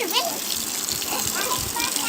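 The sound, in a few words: water gushing from an opened tap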